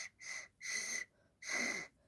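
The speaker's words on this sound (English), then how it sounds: "the vibration of it will create the little tuner, like a little whistle sound" Three breathy whistling blows into a homemade pan pipe tube, each lasting about a third of a second with brief gaps between them, fairly faint and close, no voices.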